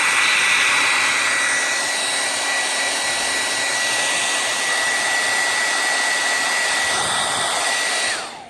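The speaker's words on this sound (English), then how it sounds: "Now we're going to dry the leather. Take a hair dryer." A hair dryer drying leather blows with a steady high-pitched whir, running continuously at close range before switching off at the end.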